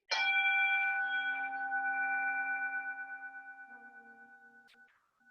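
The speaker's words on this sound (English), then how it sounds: "I'm just going to strike the bell, and this is the sound Om, and it's just a centering bell" A single centering bell struck once during a baby and parent yoga class, a clear ringing tone that sustains and slowly fades over several seconds with a gentle wavering beat.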